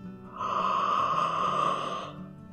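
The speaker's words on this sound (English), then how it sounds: "One big yawn" During a bedtime story, a voice performs one big, drawn-out yawn that swells, holds for about two seconds and then fades.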